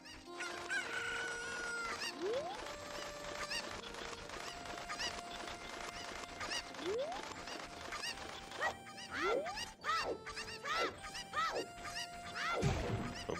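Chickens in Ocarina of Time cluck and squawk repeatedly in rising calls, several birds layered over game music, busy and close throughout.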